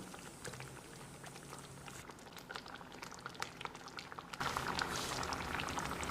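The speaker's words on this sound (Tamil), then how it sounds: "இது ஒரு 3-4 நிமிஷம் கொதிக்கட்டும்." A pot of egg gravy bubbles and simmers close up, a busy stream of soft pops and gurgles that grows louder and fuller near the end.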